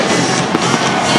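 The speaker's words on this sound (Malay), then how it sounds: "Percikan bunga api di Stadium Merdeka." Fireworks display over Stadium Merdeka at the Piala Sultan Selangor 2024 opening, a dense, continuous crackling roar with a few sharper pops, loud and sustained without speech.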